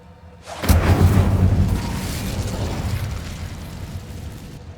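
Fire spell cast in the video game Hogwarts Legacy, a sudden loud whooshing burst that erupts into a roaring, crackling blaze before slowly fading away.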